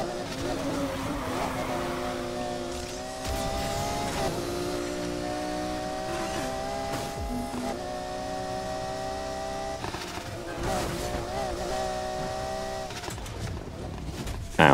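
Racing car engine in the video game Need for Speed Heat, a steady high-revving drone with shifting pitch as gears change, loud and continuous throughout with no talk.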